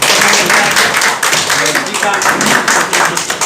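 Loud, dense applause fills a gathering of journalists from Nepal and India, steady and close with sharp claps throughout and voices mixed in.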